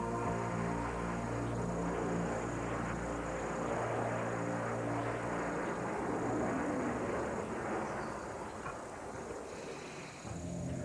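A jet aircraft launching from an aircraft carrier roars loudly and continuously, a broad engine rush with a deep hum that swells and then tapers slightly as it climbs away.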